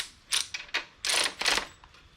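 Ratchet wrench tightening the oil drain plug on a DuroStar DS7200 generator with a 186F diesel engine, a quiet close series of irregular clicking bursts, some short and some longer, with no talking.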